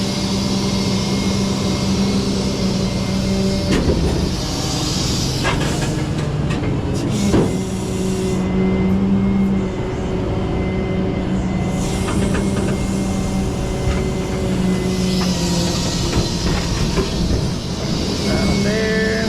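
Heavy tow truck engine idling and rumbling steadily as the truck is pulled forward from under a stranded truck, with loud continuous low drone, a few clanks and brief creaks on top, no speech.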